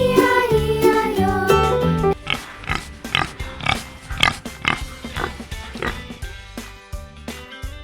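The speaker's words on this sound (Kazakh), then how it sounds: "Қабан шошқа." A wild boar grunting, a run of short, sharp oinking grunts in a repeating rhythm, set over and between a jingly children's song tune.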